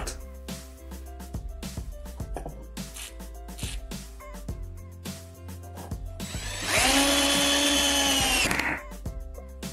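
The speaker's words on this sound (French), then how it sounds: "Pour visser facilement les vis, vaporisez-les légèrement avec du WD-40." A power drill drives screws in short whirring bursts with pauses between, close and clear, ending in a longer louder run of several seconds.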